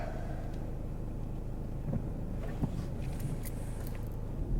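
A learner driver's car pulls away in bad weather, its low engine rumble steady and muffled from inside the cabin, with a few faint clicks and knocks, no voices.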